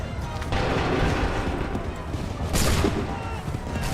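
A musket volley in Assassin's Creed III Remastered, a loud, dense burst of overlapping gunfire and booms that rolls on for several seconds with a second surge toward the end, voices mixed in.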